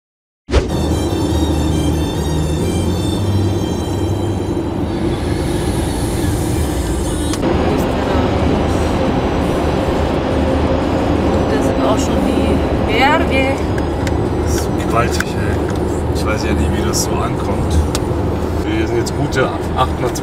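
A vehicle drives along a road in Austria towards Graz, its engine and road noise a loud, continuous rumble from start to finish, with a brief high whine in the first seconds and faint rattles along the way.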